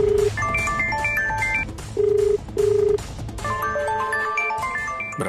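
A telephone rings for an incoming call in a Telugu TV drama scene, giving a loud run of bright electronic melodic beeps that pause and then resume, with no talking.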